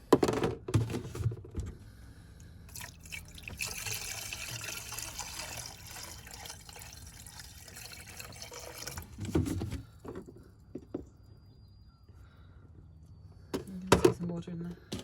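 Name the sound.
water being poured in, air releasing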